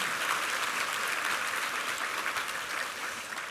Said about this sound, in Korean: 우리 이부성가대 한번 힘찬 격려 박수 부탁합니다